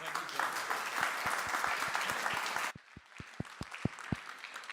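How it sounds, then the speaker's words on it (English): A roomful of people claps after a talk at a Stanford seed mixer event. The dense, loud applause drops off abruptly partway through, leaving a few scattered, distinct claps. "Another round of applause, people."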